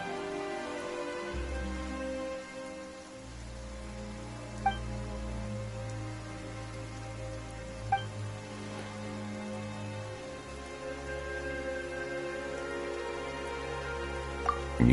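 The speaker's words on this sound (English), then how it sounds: "Why is it raining all of a sudden?" Steady rain hisses throughout over a low droning background in Genshin Impact, with a few faint clicks now and then and no talking.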